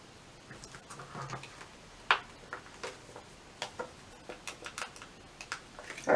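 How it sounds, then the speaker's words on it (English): Blade scoring through the top laminate layer of a printed planner sheet, giving a run of small, close, irregular ticks and light scratches, with a sharper snap near the start and a louder one at the end. "we're only trying to cut through the top layer of laminate"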